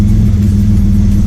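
A twin-engine Mazda MX-3 idles steadily with a low, even rumble, running lean, loud and close throughout with no voices.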